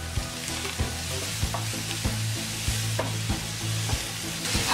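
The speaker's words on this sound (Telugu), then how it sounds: "ఆనియన్స్ని కొద్దిగా దూరంగా ఫ్రై చేసుకోవాలి." Onions frying in a pan with green chillies, curry leaves, salt and turmeric, a steady close sizzle broken by regular scraping stirs of a spoon against the pan.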